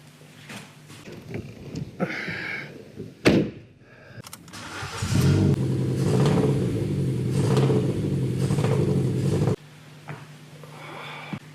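Engine of an MK6 Ford Fiesta 1.25 litre track car starting with a loud burst, then a steady droning rev as the car drives off, cutting back sharply near the end.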